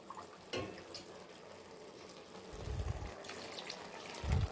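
Water poured into a pot of soaking rice while cooking chicken biryani, a soft gushing splash in short bursts, fairly faint and close, with no talking.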